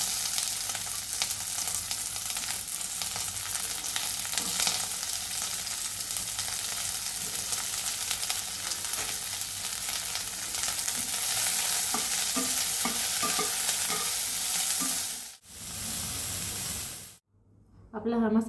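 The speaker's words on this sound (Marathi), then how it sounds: "मी हा कांदा भाजून घेते." Onion roasting in a pan for a shrimp masala gives a steady, close sizzle with stirring scrapes that drops out briefly near the end.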